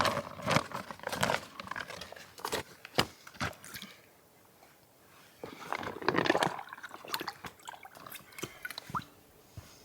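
Water pouring and splashing out of a foldable 10-liter bucket at a wilderness camp in Sweden, coming in irregular bursts of dripping and gushing at close range.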